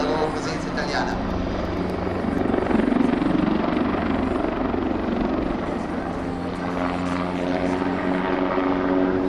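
A helicopter roars and whirs at a distance as it maneuvers in an air show display at Jesolo, its rotor noise swelling and fading while an announcer talks over it in Italian.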